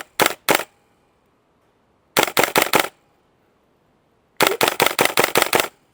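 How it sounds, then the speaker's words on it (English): A gas blowback airsoft rifle firing at a far target, heard as three sharp bursts: two quick shots, then about five, then about seven in rapid rhythm, loud and close with quiet gaps between. "there's a much bigger, sort of thicker thud to this one as you're ripping a few rounds off"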